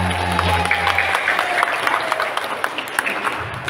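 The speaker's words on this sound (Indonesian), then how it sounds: "Tepuk tangan dong semuanya." Audience clapping at the end of a children's storytelling session, a crowd of hands applauding steadily at moderate loudness with some scattered voices beneath, thinning slightly toward the end.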